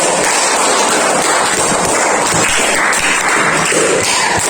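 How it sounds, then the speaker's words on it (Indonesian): Dense, loud applause fills a school coding class, a sustained wash of many hands clapping together without speech. "Tepuk tangan buat kita semua."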